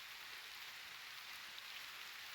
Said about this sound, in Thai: ฝนตกเนาะ